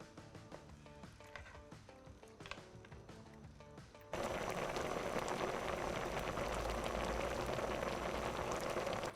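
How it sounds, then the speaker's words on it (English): Mango chutney boils in a pot on the stove. After some clattering kitchen sounds, a dense, steady bubbling and sizzling starts suddenly and continues loudly to the end. "we're gonna let it boil for about 10 minutes"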